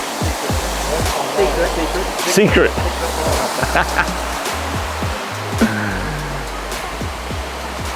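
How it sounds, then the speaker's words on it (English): Loud, continuous rushing of a waterfall fills the scene, with a voice briefly speaking over the roar. "welcome to the secret waterfall"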